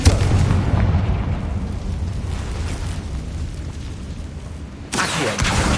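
A booming Confringo fire spell blasts off in Hogwarts Legacy, opening with a sharp hit and a rumbling roll that fades over several seconds before a second loud burst erupts near the end.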